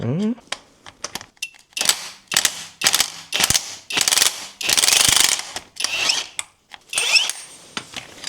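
A special tool works on motorcycle primary chain parts during primary chain, stator and clutch removal, giving a series of sharp ratcheting and clanking mechanical bursts of varying length, close and loud, with speech at points.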